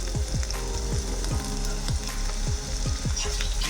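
Masala with chili flakes and salt fries in a pan, a steady sizzle broken by a run of regular stirring scrapes, close and alone.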